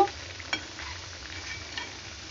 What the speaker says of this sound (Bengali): দেখুন আমার কত সুন্দর আলুটা ভাজা হচ্ছে